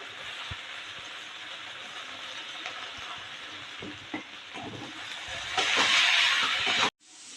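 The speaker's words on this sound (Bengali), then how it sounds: "এবার আমি ওই তেলের মধ্যে এই যে পেঁয়াজগুলো ভেজে নেব" Onions frying in oil for a homemade biryani give a steady broadband sizzle with occasional stirring knocks, swelling louder near the end before cutting off abruptly.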